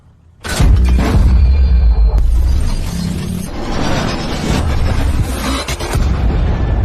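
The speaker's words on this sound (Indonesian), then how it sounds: "Mereka berhasil menghancurkan 2 tank musuh hanya dengan 1 tembakan" A film cannon shot lands with a sudden heavy boom that destroys two enemy tanks, followed by crashing, shattering debris and a second jolt, then a long rumbling, crackling aftermath of wreckage and fire.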